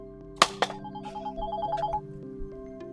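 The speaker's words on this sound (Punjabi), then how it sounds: "ਕੀ ਦਾ ਫੋਨ ਆ ਗਿਆ ਹੁਣ" A telephone rings close by in a quiet room: a few sharp electronic bursts, then a steady repeating melodic ringtone that plays alone for about three seconds.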